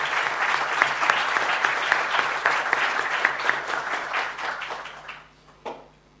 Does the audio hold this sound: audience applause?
yes